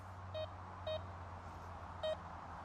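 A metal detector sweeping over snow gives three short electronic beeps, spaced irregularly and moderately loud over a low steady background hum.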